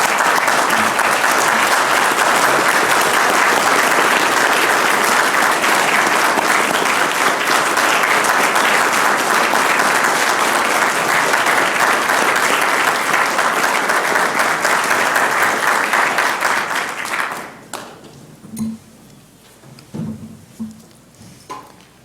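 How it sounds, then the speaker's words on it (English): Sustained, loud applause from a ceremony audience honoring John Lenchowski at an institute's inaugural address, steady for about seventeen seconds before tapering into a few scattered claps and small noises. "Please join me in a hearty round of applause for John Lenchowski"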